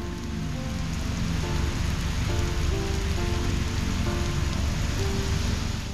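Heavy rain pours steadily at a mall in Lahore in a constant dense hiss, with some faint tonal sounds drifting in the background.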